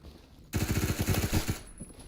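An MP5K submachine gun fires a rapid, steady burst of about a dozen shots in the Phantom Forces shooter game, loud and close, starting abruptly and cutting off after about a second.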